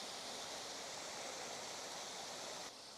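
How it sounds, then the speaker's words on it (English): Steady rushing water of a small mountain stream and waterfall on Carrock Fell, a dense continuous broadband roar close by, dropping slightly in level near the end. "We have our stream, our little waterfall,"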